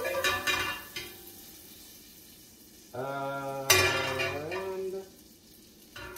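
Mushrooms being stirred through beef juices and browned fond in a hot frying pan, a steady close sizzle with soft scraping strokes rising and falling across the clip.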